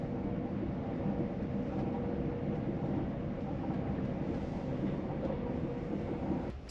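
A passenger train runs on the rails during a European rail trip, giving a steady, continuous low rumble and rolling noise from inside the carriage with no pauses.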